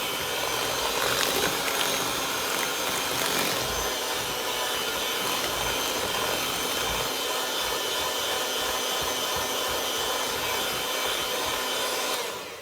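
An electric mixer whirs steadily at a raised speed, blending eggs and sugar, a loud continuous motor drone with faint rubbing from the bowl, lasting throughout with no talking.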